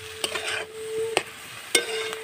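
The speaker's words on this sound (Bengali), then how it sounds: "এইবার আমি ভালো করে কষাতে থাকবো।" Cabbage and potatoes stir-fried (kasha) in a pan: a steady sizzle broken by a few sharp clacks and scrapes of the spatula against the pan, close and moderately loud.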